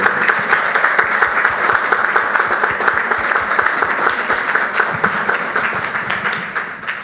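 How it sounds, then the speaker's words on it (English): Applause for honorees at a school district board of education meeting, a dense, sustained round of many hands clapping indoors that fades slightly toward the end. "If we can have one more big round of applause for all of our honorees."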